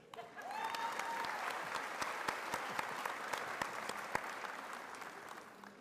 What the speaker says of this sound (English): You should all applaud for Connie Holder.